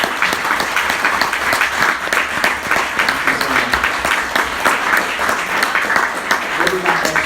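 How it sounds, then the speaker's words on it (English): Audience applause at a debate event at a birdwatching fair, loud continuous clapping from a sizable crowd filling the whole stretch without pause. "So let's have a round of applause."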